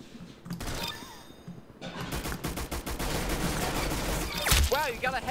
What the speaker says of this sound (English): Oh, it's the machine pistol.